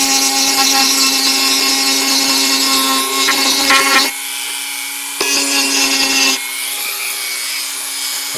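A Hyper Tough rotary tool fitted with a rubber accessory smooths a surface, giving a loud, steady high-pitched whine that drops in tone for a moment midway and then picks back up, running without a break.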